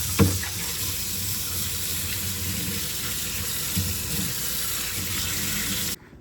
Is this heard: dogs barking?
no